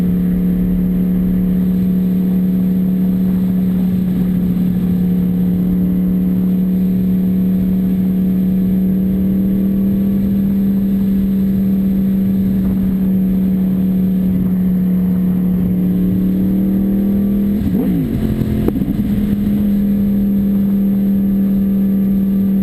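A Yamaha R1 sport bike that has sat unused for a couple of months idles with a loud, steady engine hum close by, then revs briefly near the end before settling back to idle.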